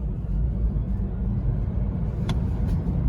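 A BMW i3s electric car pulls away, a steady low rumble of tyres and road noise with faint whine, fairly loud and continuous, without talk.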